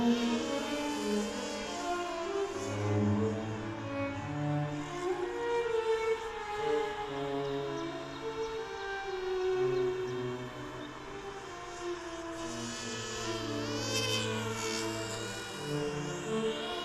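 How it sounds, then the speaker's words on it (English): An FPV quadcopter's motors and props whine in a steady, rough drone, the rear prop making it sound bad, with wavering high tones and rising pitch sweeps near the end, continuous and fairly close throughout. "As soon as the back prop spins up, it sounds pretty bad."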